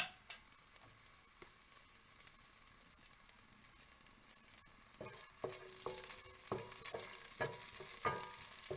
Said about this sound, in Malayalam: നേരത്തെ എടുത്ത് വെച്ചിരുന്ന കറുവപ്പട്ട, ഗ്രാമ്പു, ഏലക്ക ഇതെല്ലാം കൂടെ ഒന്ന് ഇട്ട് കൊടുക്കാം.